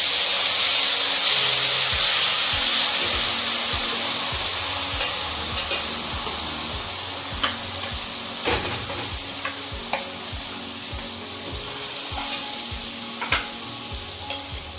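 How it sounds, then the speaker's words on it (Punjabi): Onions browning in oil in a pan for Punjabi baingan bharta, a steady close sizzle and hiss with scattered scrapes and clicks of a spoon stirring, no voices over it. "ਲਓ ਪਿਆਜ਼ ਨੂੰ ਆਪਾਂ ਚੰਗੀ ਤਰ੍ਹਾਂ ਬਰਾਊਨ ਹੋਣ ਤੱਕ"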